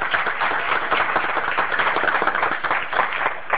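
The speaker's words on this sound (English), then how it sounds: "can you help me with a round of applause to thank our panelists?" An audience at a telework summit applauds panelists after a private-sector Q&A session, a dense steady wash of many hands clapping for several seconds, with no one speaking over it.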